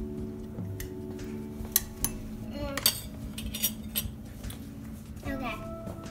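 A spoon clinks and taps against a cup while hot cocoa is stirred, a few sharp metallic knocks among soft scraping, close by and fairly quiet, with people talking in the background.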